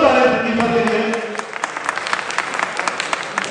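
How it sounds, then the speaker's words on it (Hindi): Audience applause at a bodybuilding competition in Lucknow, with scattered clapping rising after a brief spoken announcement over a PA and continuing steadily to the end. "एक जोरदार ताली प्रतिभा के लिए।"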